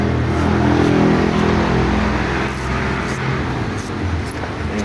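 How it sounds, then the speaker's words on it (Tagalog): Steady roar of busy morning road traffic, many cars and motor vehicles passing close by near a workshop, with continuous engine drone and occasional louder passes, no talk. "naririnig nyo maraming sakyan"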